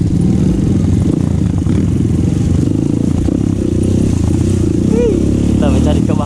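A Honda CRF 250 Rally motorcycle on an off-road trail ride in Cikalong Wetan, its engine running loud and steady up close, with people talking over it.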